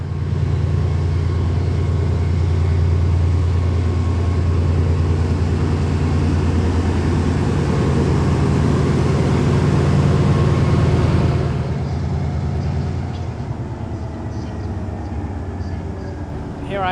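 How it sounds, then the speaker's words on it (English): A British Class 68 diesel locomotive at the back of the train powers down: a loud, steady low engine drone holds, then falls away near the end and leaves a quieter hum. "Sounds like they're powering it down"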